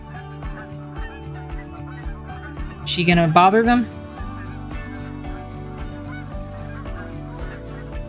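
Geese honk in theHunter: Call of the Wild, a faint repeated chorus of calls heard over a steady game ambience with a rhythmic pulse. A person talks briefly in the middle.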